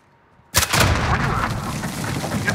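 Gunfire in a Call of Duty: Modern Warfare match bursts in suddenly after brief quiet, a loud blast followed by sustained rumbling reverberation and continued shooting.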